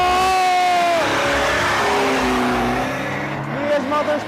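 An Isuzu D-Max diesel drag car accelerates hard at a drag racing event, its loud engine climbing steadily in pitch and staying close throughout, while a commentator talks over it.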